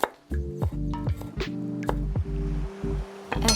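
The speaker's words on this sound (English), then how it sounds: "Let's start by peeling and slicing 4 small Thai shallots" Small Thai shallots are peeled and sliced with a knife, making close, crisp chopping taps and soft squishy cuts in quick irregular bursts over a low steady tonal background.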